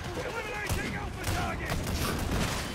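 Enemy gunfire in the video game Heresy crackles in dense overlapping bursts, loud and continuous, while a voice talks over it.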